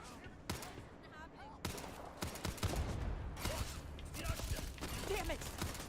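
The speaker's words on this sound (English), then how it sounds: "Just shoot everything!" Gunfire in the video game Starfield, a series of sharp bursts and shots of varying loudness packed close together, mixed with game sounds and voices throughout.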